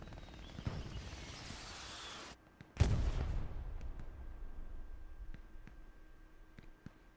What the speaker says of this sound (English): if arty is landing there every 10 to 15 seconds, you can't effectively spawn on it